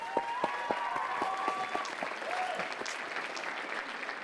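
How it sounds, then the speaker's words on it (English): Applause at a Gulf Coast State College commencement ceremony, with graduates clapping for their parents and loved ones. A steady wash of clapping runs throughout, with a few sharp claps near the start and a brief voice or tone over it. "Students, please give your parents and loved ones a round of applause"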